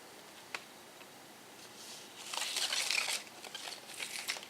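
A vinyl record slides out of a paper sleeve, giving a close, quiet crinkling and rustling scrape that swells midway, then trails off in softer papery rubs.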